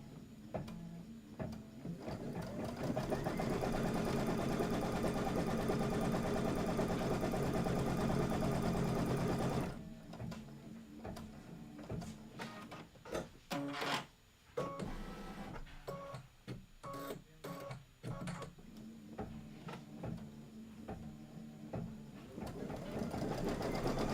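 Domestic sewing machine stitching a quilted table topper, a steady loud mechanical whir running continuously, then stopping and restarting in short stop-and-go bursts with brief clicks between.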